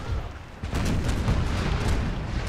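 Dense, continuous artillery fire and explosions in an American Civil War video game, a rumbling wall of overlapping booms and cannon blasts at a steady, loud level without a pause.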